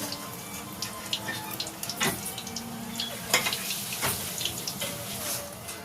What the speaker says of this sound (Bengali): সব পকোড়াগুলো ভাজা হয়ে গেছে তুলে নিচ্ছে